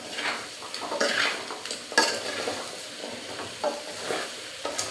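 Gooseberries sauté in oil in an aluminium kadai over a low flame, with a steady soft sizzle broken by repeated scraping stirs and light metallic clinks of a spoon against the pan.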